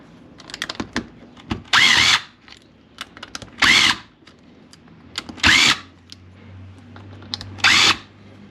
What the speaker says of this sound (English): I'm going to use my impact here only to remove the bolts